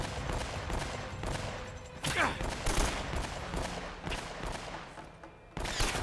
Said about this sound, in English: opening ಹೋಗ್ಲಿಕ್ಕಿಲ್ಲ, ಎಲ್ಲ ಒಟ್ಟಿಗೆ shoot ಮಾಡ್ತಾರೆ